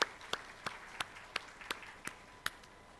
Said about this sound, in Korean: 우리 다시 한번 모든 수고한 사람들 박수로 격려.